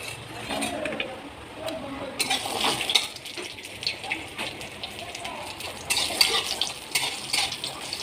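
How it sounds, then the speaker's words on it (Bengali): Lentil dumplings (bori) fry in oil in a wok in a home kitchen, giving a steady sizzle with scraping stirs and light clinks of a utensil against the pan throughout. "কড়াতে তেল দিয়ে বড়ি ভেজে নেব।"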